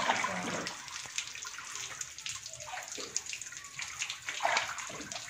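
Water drains and splashes steadily from freshly made tofu being strained, a continuous close watery rush and trickle with no talk.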